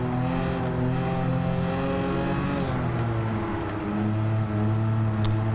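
Porsche engine in Gran Turismo 7 droning steadily with a layered tone, pitch easing and rising slightly as it revs, loud and continuous without voices.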